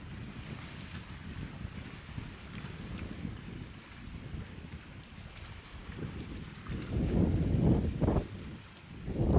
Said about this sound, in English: As you can hear, the wind's blowing pretty strong